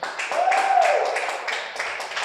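Audience in a church clapping together, a dense, steady wash of applause filling the room, with voices mixed in underneath.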